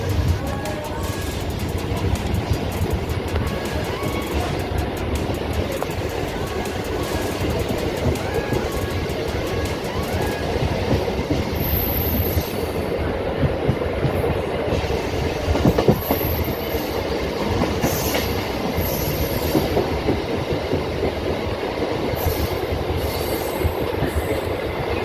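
A Mumbai local train running between Grand Road and Mumbai Central, heard from inside as a steady loud rumble of wheels and carriage with rhythmic clatter and occasional high squeals, continuous throughout.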